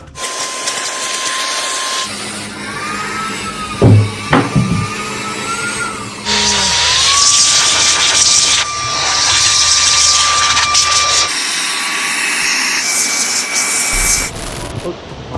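A high-powered cordless car vacuum cleaner rated at 18,160 pascals of suction runs up close with a loud, steady whining roar, shifting in pitch and intensity, with brief knocks and bumps along the way.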